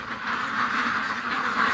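Ducks quack in a dense, agitated chorus, upset by gusting wind, loud and continuous throughout with no voices.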